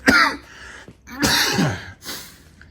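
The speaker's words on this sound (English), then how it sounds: "Sorry, another coughing fit." Three harsh, raspy coughs come in separate bursts, close and loud, with brief gaps of quiet between them.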